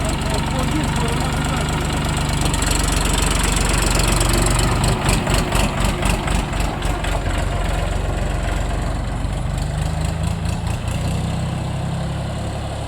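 An Orion 244 mini tractor engine idles in a steady low rumble, with a rhythmic knocking pulse that swells and grows more pronounced midway before settling back, close and fairly loud.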